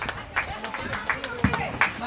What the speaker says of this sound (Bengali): সবাই জোরে তালি, সবাই তালি দেয়।